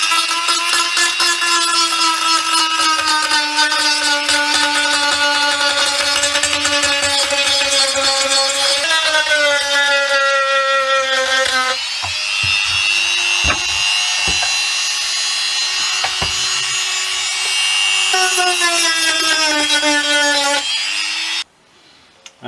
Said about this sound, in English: that's the hole cleaned up using the Dremel tool